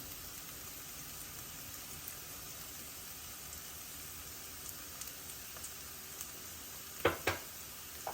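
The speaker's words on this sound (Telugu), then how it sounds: "ఇందులో ఇప్పుడు మనము పసుపు ధనియాల పౌడర్ కూడా వేసి వేయించేస్తున్నాం" Onion paste and ginger-garlic paste frying with turmeric and coriander powder for mutton gravy curry, a quiet steady sizzle with a few small pops and brief stirring scrapes near the end.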